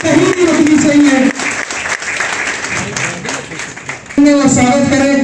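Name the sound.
audience applause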